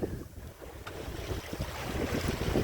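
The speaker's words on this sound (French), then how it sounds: "Il y a le vent qui commence à se lever un peu." Wind rushes steadily over a sailboat racing in a regatta, with a broad, low roar of gusts and water that swells slightly as the breeze picks up. No one speaks.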